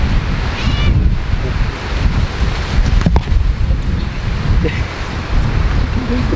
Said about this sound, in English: Tigger, it's wind. It's wind.